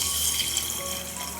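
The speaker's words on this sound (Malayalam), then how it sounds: "വെള്ളം ഒഴിച്ച് ഒന്ന് കഴുകിയെടുക്കാം." Water pours from a tap into a bowl to rinse roasted split moong dal, a steady, close running-water wash with no speech, lasting about a second and a half.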